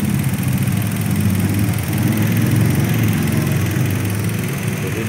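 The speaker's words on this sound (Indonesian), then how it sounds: "Mesinnya lebih halus." A 2013 KIA Sportage with a 2.0L engine fitted with an HHO kit idles steadily, a continuous even engine hum and rumble heard close up and fairly loud with no talking.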